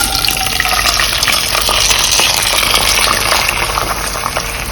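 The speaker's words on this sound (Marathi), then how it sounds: "आता आपण याच्यामध्ये तांदूळ टाकून" Rice being roasted in a pan for narali bhat, a sweet coconut rice, giving a dense, loud, steady sizzling hiss with faint scraping stirs throughout and no talking.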